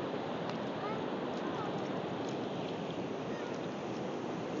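Ocean waves wash onto a beach as a continuous broad roar of surf with wind noise, steady and fairly close, with no clear separate breaks.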